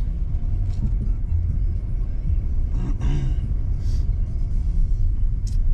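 A car rolls slowly into a garage at a rural homestead, its low engine rumble and tyre noise steady and close throughout, with a few brief higher bumps along the way.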